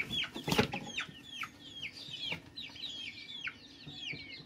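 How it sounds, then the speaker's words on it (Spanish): Young turkeys at a poultry breeding farm give repeated thin, high chirping peeps in quick overlapping calls, close and moderately loud, with a few sharper clucking notes mixed in and no talking. "Y estos son los famosos pavitos."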